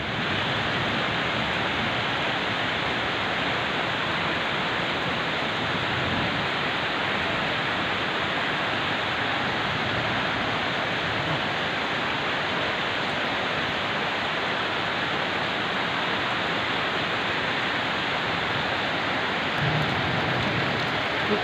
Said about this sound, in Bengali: নরসিংদীতে রহমতের বৃষ্টি হচ্ছে